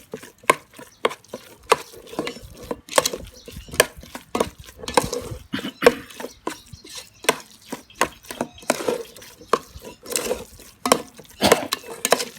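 Stirring a seasoned catfish larb, a spicy Thai minced fish salad, with a utensil in a bowl, giving close, repeated scraping and tapping knocks in an uneven rhythm with no talk over it.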